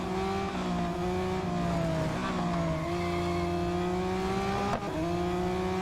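A Lamborghini in the Real Racing 3 game holds a loud, continuous engine drone with shifting pitch and a faint tire-skid texture throughout, near and uninterrupted.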